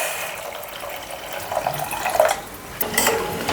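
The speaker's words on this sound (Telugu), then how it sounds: "వాటర్ అదే కప్పుతోటి వాటర్ కూడా వేసుకోవాలి." Water poured from a cup onto jaggery in a pan, a soft continuous trickle and splash at close range with a couple of slightly louder gushes.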